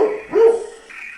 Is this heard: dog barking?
yes